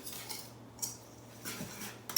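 Spoon or utensil clinking and scraping against a bowl while mixing banana muffin batter with white and brown sugar, a few short clattering bursts spaced apart, fairly quiet and close, no talking.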